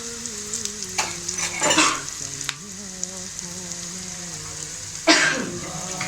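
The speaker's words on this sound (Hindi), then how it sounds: "इस तरह से ऊपर फ्राई हो रहा है।" A cheese omelette sizzles steadily in a pan over low heat, close and fairly quiet, broken by a few louder scraping stirs and a throat-clearing sound.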